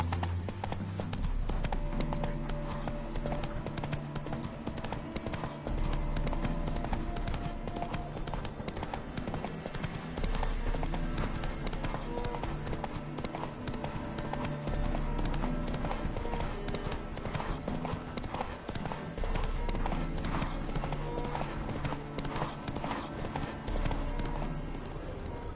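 Roach the horse's hooves clip-clop steadily on a road in Witcher 3, a continuous even trotting rhythm under game music for nearly half a minute, fairly quiet overall.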